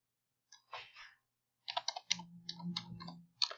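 A computer keyboard is being typed on in a few quick bursts of close, crisp key clicks separated by short pauses, quiet and alone.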